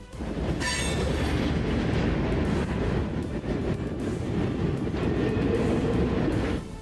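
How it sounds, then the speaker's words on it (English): A freight train carrying airplane fuselages rolls past, a loud sustained rumble with clattering wheels and a brief high squeal near the start, close and continuous throughout with no voices. "you can see how trains transport airplane fuselages for further assembly"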